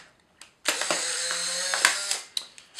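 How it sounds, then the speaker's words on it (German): A Polaroid SX-70 Model 3 instant camera motors the film's dark slide out after a cartridge is loaded, giving a close, steady mechanical whir of about a second with small clicks before and after. "Dann kommt schon das erste Bild bzw. natürlich der Lichtschutz raus"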